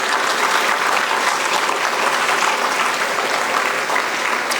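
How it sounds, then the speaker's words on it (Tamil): A large audience of students at a college freshers induction program applauds, a loud continuous roar of clapping that stays dense and even throughout. "நீங்கள் ஒரு பெரிய கைத்தட்டல் கொடுங்க, மிகப்பெரிய கைத்தட்டல் கொடுங்க."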